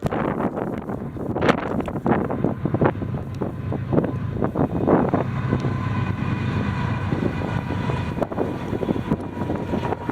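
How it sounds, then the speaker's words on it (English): Low rumble of a freight train rolling past with clattering and rattling, heavy wind buffeting the microphone throughout. "I noticed another train going westbound"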